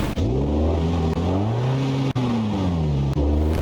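The Brutta Grander, a car with a 5-speed transmission and turbo or supercharger in BeamNG.drive, revs its engine repeatedly, with rising pitch sweeps broken by brief dips between throttle blips, loud and close.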